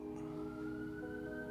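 Emergency siren passing outside, a faint, steady wailing tone held throughout under a low background hum.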